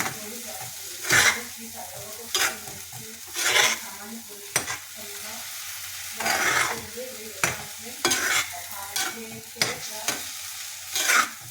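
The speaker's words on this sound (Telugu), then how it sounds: "ముందుగా మనం వేగించుకున్న పన్నీర్ ముక్కలు కూడా వేసుకోవాలండి. ఇందులో వేసుకొని బాగా కలుపుకోవాలండి" Fried paneer pieces are stirred into masala in a hot pan: a steady sizzle underneath, broken by a series of sharp scraping strokes of the spoon against the pan at irregular intervals, close and clear.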